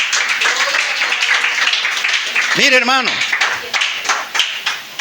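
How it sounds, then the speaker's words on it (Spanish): Congregation applause during a church sermon, a continuous bed of clapping across the whole stretch with someone speaking briefly over it partway through. "Denle ese fuerte aplauso."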